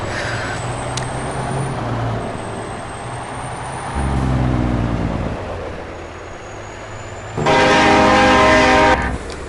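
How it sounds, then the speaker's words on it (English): A deep, multi-tone vehicle horn in Farming Simulator 22 blares like a train horn in long blasts over a steady engine rumble. "that sounds like a train horn every time I use it"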